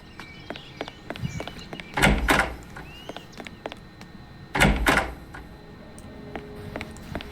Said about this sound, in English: Why'd you open the kitchen door?